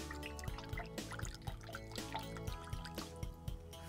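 A hand swirls soapy bath water for a baby doll, giving a soft, close, continuous slosh with rhythmic dripping splashes over light background music and no talking.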